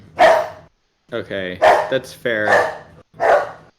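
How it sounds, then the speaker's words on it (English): A dog barks indoors several times in short, loud, pitched yelps with brief gaps, interleaved with a person speaking. "Sorry, that's my dog."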